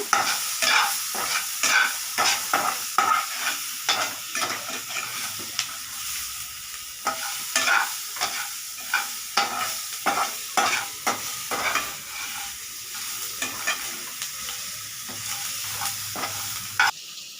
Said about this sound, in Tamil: இப்போ நெக்ஸ்ட்டு வந்து நம்ம தங்கச்சி வதக்குறாங்க பாருங்க